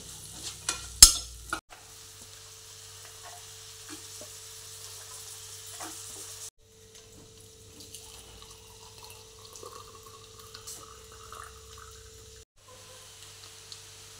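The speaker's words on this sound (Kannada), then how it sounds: "ಶುಂಠಿ ಬೆಳ್ಳುಳ್ಳಿ ಪೇಸ್ಟ್, ಟೊಮೆಟೊ ಮತ್ತು ಉಳಿದ ತರಕಾರಿ, ಕ್ಯಾರೆಟ್ ಮತ್ತು ಬೀನ್ಸ್ ಇದೆಲ್ಲವೂ ಸ್ವಲ್ಪ ಹೊತ್ತು ಫ್ರೈ ಆಗಲಿ." Ginger garlic paste, tomato, carrots and beans frying in a pan for pulao, an opening clatter of stirring followed by a quiet continuous sizzle with occasional scraping, broken by brief gaps.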